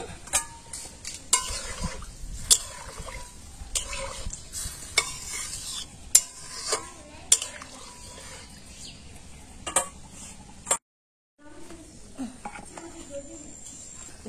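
Potatoes are stirred and scraped in a hot pan with a steady sizzle, the spoon clacking against the metal in repeated sharp knocks, with a brief cutout near the end.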